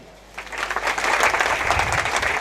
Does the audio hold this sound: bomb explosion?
no